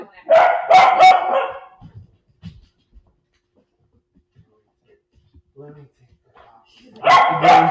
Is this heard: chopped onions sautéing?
no